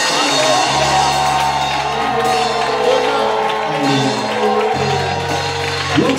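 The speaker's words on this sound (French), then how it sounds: "Je veux même des cris de joie." Worship congregation erupting in joyful cheers, whoops and shouts, a dense loud crowd roar with sustained vocal cries throughout, briefly dipping before surging again near the end.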